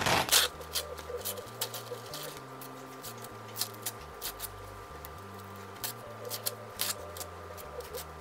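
Stabilizer backing being torn away from freshly sewn fabric on a cosplay costume piece, a close run of dry, crackly ripping and rustling in short bursts with a steady faint hum underneath.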